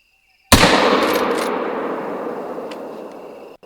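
A single loud gunshot in a hunting video game cracks out of silence, then a long echoing tail rolls away and fades over about three seconds.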